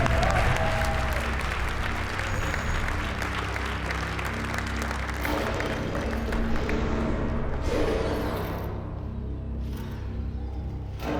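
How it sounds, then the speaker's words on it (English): Loud, sustained applause from an awards-ceremony audience at the D.I.C.E. Awards, a dense wash of clapping that carries on steadily for several seconds before thinning out near the end. "we clapped for ourselves when we were like announced"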